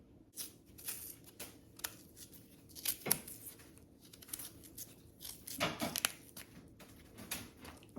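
A knife peeling the thick skin off cassava root, quiet scraping and tearing strokes in an irregular rhythm with occasional sharper cracks as pieces of peel come away, close and faint.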